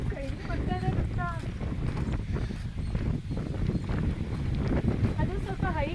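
Strong wind buffets the microphone on a high bridge, a steady rough roar filling the whole stretch with people talking over it.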